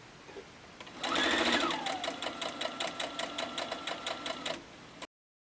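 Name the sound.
sewing machine stitching quilt block seams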